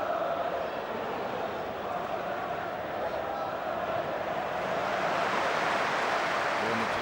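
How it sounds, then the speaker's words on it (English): Football crowd at a Premiership match between Manchester United and Bolton Wanderers applauding a pass from Keane, a steady wash of stadium applause and crowd noise rising slightly toward the end, heard at a distance. "Warm applause for that ball from Keane,"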